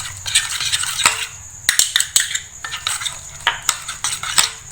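Fried onions and spices stirred into a beef Bihari kebab mixture make close, busy clinks and scrapes of a spoon against a bowl, with a wet squelching texture in short repeated bursts and no talking.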